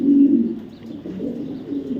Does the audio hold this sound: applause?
no